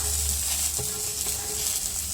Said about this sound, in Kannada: ಹುರಿತಾ ಇದ್ದಾಳೆ